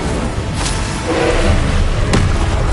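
An Incendio fire spell blast from Hogwarts Legacy lands as a loud, dense boom with a whooshing burst, its roar sustained over a couple of seconds.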